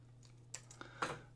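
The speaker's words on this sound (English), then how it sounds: "I got my keyboard in my lap right now because it's picking up way too much sound." A few soft, irregular keystrokes on a computer keyboard resting in a lap, faint clicks over a low steady hum.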